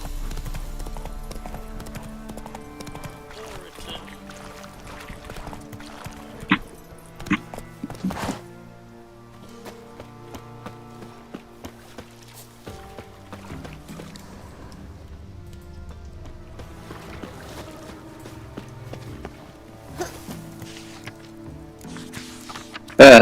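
Hooves of Roach, the horse in The Witcher 3, clip-clop in a steady trotting rhythm under game music and ambient sound, with a few louder thuds along the way.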